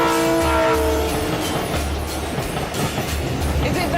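Freight train rolling through the desert, a steady rumbling roar with low rhythmic thumps of wheels on track and a fading tonal hum early on, heard close and continuous.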